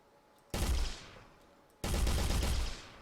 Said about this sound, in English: Here is the grenade launcher.